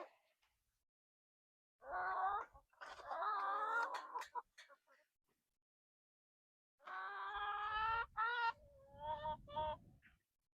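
Backyard hens from a chicken run give two loud bursts of honking, squawking calls, one early and one later, with quiet gaps around them.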